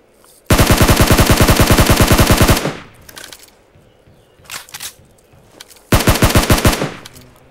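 Automatic gunfire in the PUBG Mobile video game: a long rapid burst of about two seconds, a few scattered quieter sounds, then a second shorter burst near the end, loud and close, with no voices.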